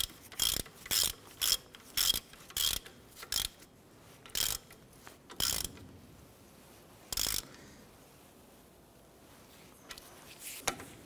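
Ratchet snugging a ball joint bolt on a 1993-1997 Ford Ranger, giving about a dozen crisp, close clicking strokes in a steady rhythm that slows and then stops.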